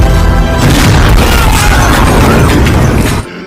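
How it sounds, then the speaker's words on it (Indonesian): A bomb explodes in a character's hands in a live-action One Piece episode: a loud, full-bodied boom with a rumbling, crackling tail that sustains for about three seconds before cutting off abruptly. "bom tersebut malah meledak di tangan Hiriluk"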